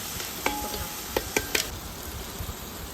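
Chicken biryani masala is stirred in a pan for a wedding-style fried chicken biryani. A soft sizzle runs underneath, and a few sharp spoon knocks land close together.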